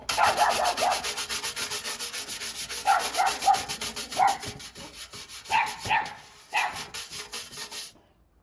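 Brisk rhythmic rubbing strokes buff an oil-wet rusty metal sculpture, repeating quickly and close by, while a dog barks and whines intermittently in the room.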